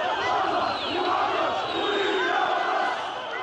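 Crowds in Tripoli cheer and chant at a rally for Muammar Gaddafi, a dense roar of many voices with shouted calls rising over it, loud and continuous throughout.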